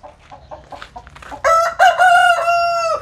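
Nine-spur roosters crow loudly and close by, one drawn-out call after soft clucking from hens in a farm coop, with no voices.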